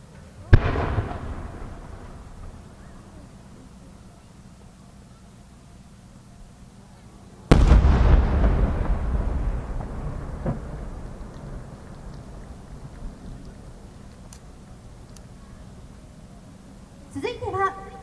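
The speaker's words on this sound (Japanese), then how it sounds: "北日本花火工業創造花火 8号玉金木付き天空のユートピア" Two 8-go fireworks shells from Kita-Nihon Hanabi Kogyo burst at a fireworks display, each a sharp distant boom followed by a long rumbling decay, with faint crackle near the end.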